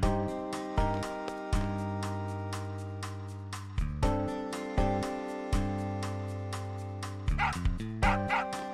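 Dog barks from the video game Final Fantasy 8 Remastered, short repeated yips over a steady looping game music track with regular beats, louder bursts near the end.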